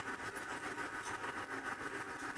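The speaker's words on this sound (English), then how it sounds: "I have a blower back here that I can turn on, and it blows cold air across the surface" Homemade blower built from a gas-fired furnace fan, pushing cold air across freshly roasted coffee beans, a soft continuous whooshing rush with a faint fluttering texture, steady and quiet.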